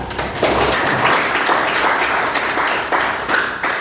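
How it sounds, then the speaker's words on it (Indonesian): Classroom of students clapping hands together, loud, close, and slightly ragged in rhythm, a continuous burst of clapping with a few heavier thumps. "Kita beri tepuk tangan untuk kita."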